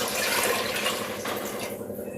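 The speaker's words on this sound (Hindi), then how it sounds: "तो यहाँ तक मुझे पानी डालना है।" Water being poured into a cooking pot of rice and vegetables in a home kitchen, a steady close splashing pour with no talking.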